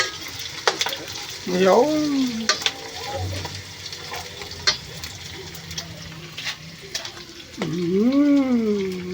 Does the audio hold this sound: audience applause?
no